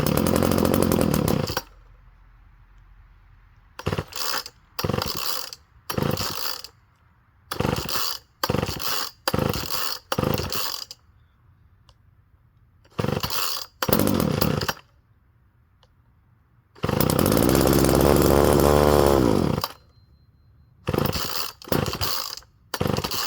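A vintage Craftsman gas weed eater, a cheap used string trimmer, starts after choking and runs in short loud revving bursts that cut off between pauses, then holds a longer run near the end.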